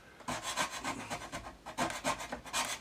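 Wood on a Bush VHF 41 radio cabinet is gouged and scraped in repeated rasping strokes, close and moderately loud, with short pauses between bursts.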